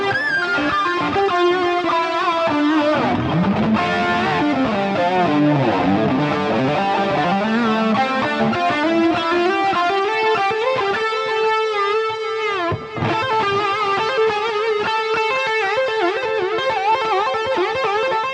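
A sustained, soaring electric guitar lead plays melodic lines in the style of a classic rock song, heavily drenched in echoing delay and lush reverb, loud and continuous.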